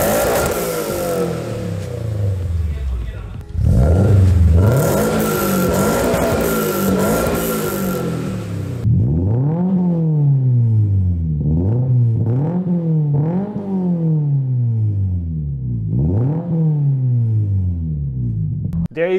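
A car engine with a loud modified exhaust revs repeatedly, climbing and dropping in pitch, first in long sweeps, then in a series of quick blips.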